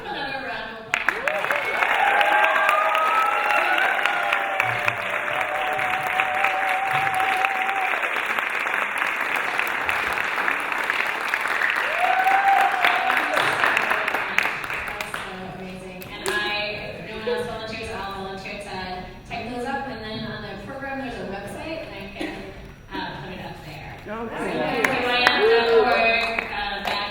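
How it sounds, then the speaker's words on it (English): An audience bursts into dense, loud, sustained applause for about fifteen seconds, then fades into crowd chatter and talking. Near the end the clapping briefly swells again. "let's give them another round of applause."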